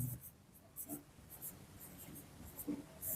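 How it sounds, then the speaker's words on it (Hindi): Marker or chalk scratching across a board during a physics lesson on electric dipoles, a run of short quiet strokes and taps at close range with no talking. "तो यहाँ पर लिखेंगे"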